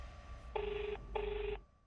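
Two DTMF keypad tones from a telephone being dialed, each lasting under half a second with a short gap between them, heard alone over a low background hum.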